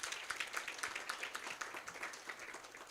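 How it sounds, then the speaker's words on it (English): Audience applause at a caregivers forum on non-communicable diseases, a steady patter of many hands clapping moderately loud in a hall, continuing evenly without speech. "Shall we clap for her courage?"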